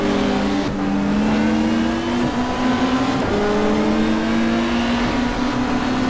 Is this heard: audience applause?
no